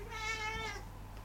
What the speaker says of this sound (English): It's a funny cat playing with your cotton bed.